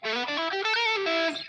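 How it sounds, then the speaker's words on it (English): An electric guitar played through a heavily distorted effects setting rings out close and loud, a short run of sustained, buzzing harmonic notes that shift pitch a few times before cutting off. "here's a little more distortion"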